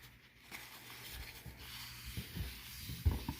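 A paper towel is rubbed over a surface to wipe off a sticky film, giving quiet, close scuffing and swishing strokes with a few soft bumps toward the end.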